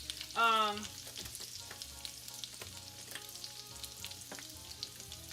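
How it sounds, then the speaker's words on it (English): Seasoned food with thyme hisses softly in a frying pan while it is tossed and stirred, with a faint continuous sizzle and light scraping movements at low volume. "So we need to toss all this around. And we're going to continue to stir it and everything."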